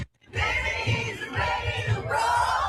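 A large crowd gathered outdoors in downtown Minneapolis celebrating, a dense roar of many voices with cheering and yelling swelling and surging throughout, loud and close, with no single voice standing out.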